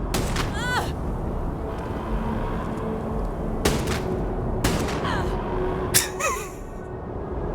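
Gunfire and explosive blasts in the space combat video game Starfield, several sharp bursts and booms spaced across the clip over a continuous rumbling background, with a voice talking at times.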